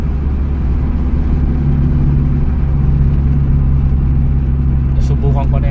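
A Toyota 4AF engine in a Corolla revs loudly and steadily up close, a low droning rumble that holds throughout, with a person talking over it.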